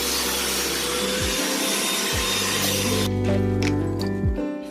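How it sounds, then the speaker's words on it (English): A vacuum cleaner cleaning up debris from inside a couch, a loud, steady whirring drone with shifting pitch as the nozzle moves and sucks up material, continuous and close throughout. "Black Panther, cut on the vacuum and get to cleaning this up."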